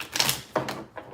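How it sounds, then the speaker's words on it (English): Tarot cards shuffled close up in three short, sharp snapping riffles, each fading quickly, with brief pauses between them. "I was shuffling and this weirdly just came out of the middle, and Sharmella had that too."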